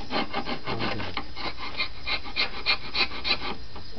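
Wood being sanded while it is prepared for tongue-and-groove joining, heard as a steady close rasping with rhythmic scraping strokes that grow slightly louder and more regular toward the end.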